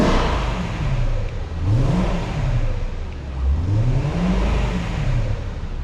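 A cold BMW E90 M3 with manual gearbox blips its engine twice up to about 3,000 rpm, each rev swelling and falling back to a steady idle, close and loud with no talking.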